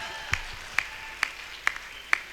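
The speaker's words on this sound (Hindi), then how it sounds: "झूम जाना और झूम के तालियां बजाना मेरे साथ" An audience claps along in time at a live comedy parody performance in Rohtak, with five sharp, evenly spaced claps about half a second apart, no voices heard.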